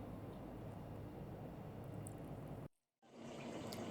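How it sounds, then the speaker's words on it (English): Water is poured into a pot of chicken ramen with mixed seasonings, a steady soft hissing pour that breaks off briefly near the end before resuming, with no talking. "And I'm just going to add a little water"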